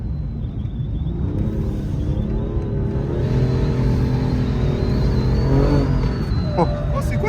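BMW M4 drifting on the Vaison Piste race track, its engine a loud sustained rumble whose pitch climbs and holds, with people talking over it.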